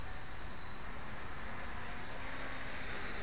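A 4G6 RC helicopter runs at full throttle, a constant high-pitched whine with a slowly rising tone over steady rotor and motor noise, loud and alone.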